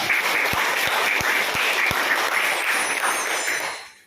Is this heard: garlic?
no